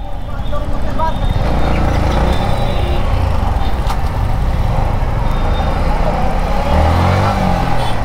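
Dense road traffic in a heavy jam with tempo vehicles, a constant rumble of idling and revving engines nearby, with a brief horn, and a voice talking over the noise.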